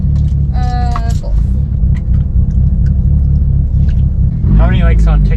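A 700-plus wheel-horsepower straight-piped Mitsubishi Evo 8 idles with a deep, loud, steady rumble close by, while people talk over it.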